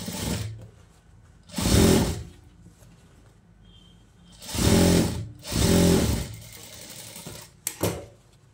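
A tailoring sewing machine stitches a silk skirt and blouse in short separate bursts, about four clear runs plus a brief final one, with quiet gaps between them.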